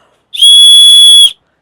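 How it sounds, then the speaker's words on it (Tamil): A loud, steady whistle from a survival kit sounds once for about a second, one sustained shrill tone rising sharply at the start and cutting off cleanly, heard alone with no talk. "விசிலும் வந்து உங்களுக்கு ரொம்ப பவர்ஃபுல்லாக இருக்கும்"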